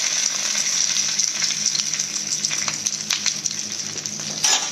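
Brinjals sauté in a hot pan with salt, turmeric and curry leaves, giving a dense, steady sizzle with light crackling and occasional soft stirring clicks, close and without voices.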